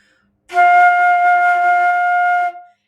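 A flute holds a single steady F for about two seconds, clear and full, starting cleanly and fading out at the end, alone without talk.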